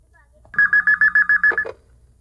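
A telephone is dialed to call a manager: about nine short, evenly spaced touch-tone beeps in quick succession, loud and close, followed by a brief click.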